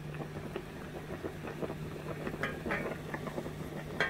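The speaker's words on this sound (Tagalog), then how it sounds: "Kumukulo-kulo na siya." Suman, sticky rice wrapped with coconut, boils in a pot with a faint, steady bubbling and soft scattered pops over a low hum.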